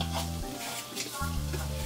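Onions go into garlic already frying in a pan, giving a soft, fairly quiet sizzle with a couple of stirring sweeps and a low background hum, nobody speaking.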